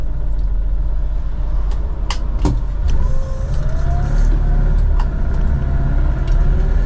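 A Citroen Acadiane van-car's engine rumbles low and steady from inside the cabin in traffic, loud and close, with small rattles and a faint whine rising over the drone.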